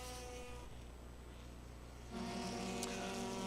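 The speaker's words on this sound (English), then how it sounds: "Watching these cars circle the racetrack." Race cars lap the Langley Speedway oval during an enduro race as a steady, distant engine drone with high whining tones. The sound grows louder and fuller as cars pass nearer.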